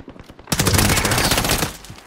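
A loud, rapid burst of automatic gunfire in the video game Call of Duty Warzone, a dense rattling volley lasting over a second, with no talk over it.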